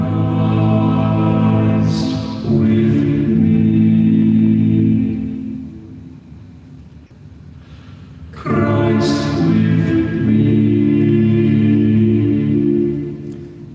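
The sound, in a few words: recording of ensemble singing the piece The Deer's Cry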